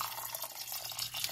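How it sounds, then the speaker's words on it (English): Water runs from a tap into a pot of rice, a brief soft stream with faint splashing, quiet and close. "Fill it with more water."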